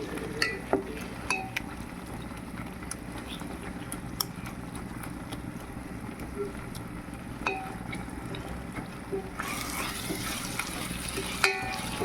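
Stirring a cooked masala mixture into chicken curry in a pan, with soft continuous sizzling and occasional faint scraping clicks, fairly quiet throughout.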